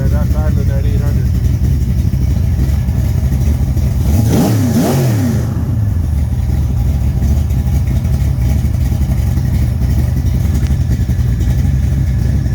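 A rebuilt 1970 340 V8 with +.030 bore, 2.02 heads and a big Thumpr cam idles at 800 rpm, a loud, steady, lumpy rumble close by with a brief pitch swell midway.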